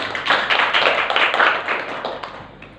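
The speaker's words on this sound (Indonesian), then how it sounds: "Tepuk tangan untuk Wardi" Students in a classroom clap together for a classmate, a dense burst of many hands that fills the moment, then thins and fades toward the end.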